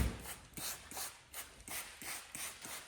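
Rhythmic back-and-forth wet sanding by hand of high-build primer on a 1971 Corvette, about a stroke every half second, close and steady with no talking.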